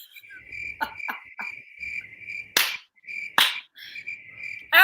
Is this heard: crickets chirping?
yes